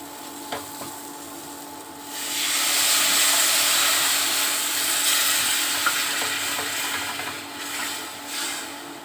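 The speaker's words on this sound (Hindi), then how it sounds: "और इसमें 2 मिनट भूनूंगी।" Steady sizzling and frying hiss of ground lentil paste in a pan, rising after a quiet start, with occasional stirring scrapes; no talking.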